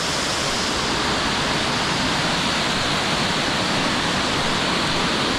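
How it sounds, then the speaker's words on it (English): A wide waterfall on Fridays Creek near Coffs Harbour, formed by two falls side by side, pours with a strong flow, giving a loud, steady, unbroken roar of rushing water with no other sounds. "Wow, pretty good flow."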